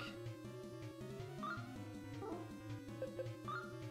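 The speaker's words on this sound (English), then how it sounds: "Howling." A creature howls in the video game Disc Creatures, a series of short yipping, whimpering cries that rise and fall over busy game music. No one talks.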